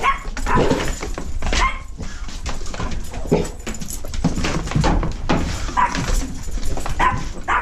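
A house dog barks and yips in short irregular bursts at close range, mixed with whimpering between barks, in a domestic setting near a boiler job.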